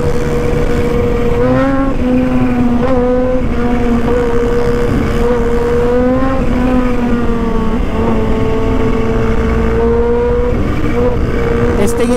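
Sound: Raider 400cc motorcycle engine revving and accelerating

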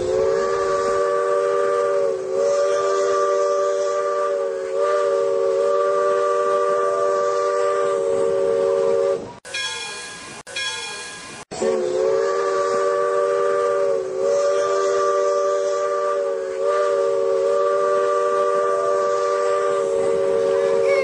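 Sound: steam train running with whistle blowing

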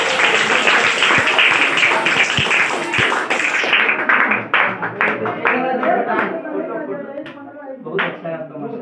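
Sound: applause

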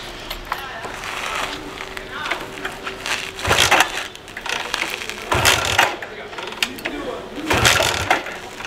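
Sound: motorcycle engine cranking but failing to start

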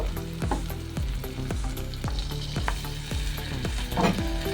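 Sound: spice paste and water stirred into prawn curry in pan

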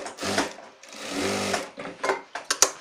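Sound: sewing machine stitching a shirt

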